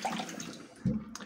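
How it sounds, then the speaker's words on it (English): Water splashing as a man rinses his face after a shave, a short soft wash of running water followed by a louder splash near the end, close by with no talk. "I wash up my face."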